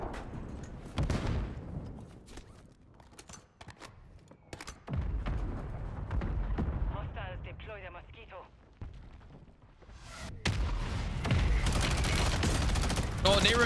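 Gunfire in the Warzone battle royale game, sharp repeated shots and bursts scattered through the stretch, some loud and close, others more distant, with a player talking over much of it.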